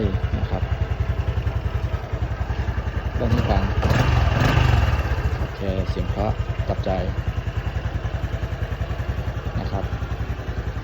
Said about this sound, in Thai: เราฟังเสียงเครื่องกันเลยนะครับ ว่าหมื่นเจ็ดเนี่ย เครื่องจะมีปัญหาอะไรไหม สตาร์ทครั้งเดียวติดเหมือนเดิม